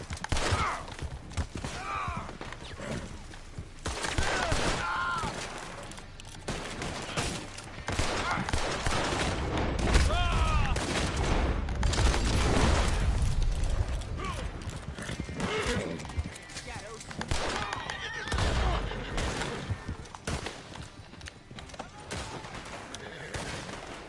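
Gunfire from the video game Red Dead Redemption 2 crackles in bursts over steady horse hooves clip-clopping and occasional neighing. The shots are moderately loud and sit among dense game sound and light talk.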